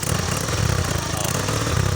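A Yamaha Mio i125 scooter engine and exhaust running after an overhaul for a crankshaft issue, giving a steady, close, low idling hum with a faint talking voice over it.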